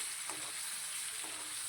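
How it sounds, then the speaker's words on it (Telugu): Jackfruit seeds fry with onions in a pan, giving a steady, close hiss and sizzle with soft stirring scrapes and no talk. "కళాయిలో ఉల్లిపాయలు అవన్నీ వేపిన తర్వాత పనస పిక్కలు వేసుకొని చక్కగా వేపుకుంటున్నాను"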